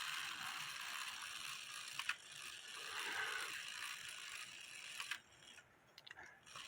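An antique shield clock with a wooden plate and a porcelain face ratchets faintly, its mechanism giving soft clicking and pawl sounds close by. There are small sharper ticks near the second and fifth seconds, and the clip ends quieter.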